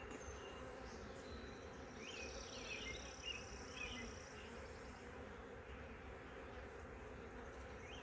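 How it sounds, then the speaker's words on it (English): A dense, steady buzzing of many honeybees in a hive packed with bees fills the clip, a constant droning hum without pause, with no voices. "This is just packed with bees."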